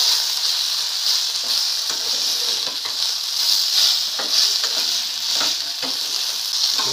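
Drumstick and potato fritters fry in oil with a loud, continuous bubbling sizzle, broken by crisp pops and crackles close up throughout, with no voices.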